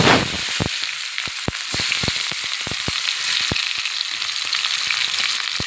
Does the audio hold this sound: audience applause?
no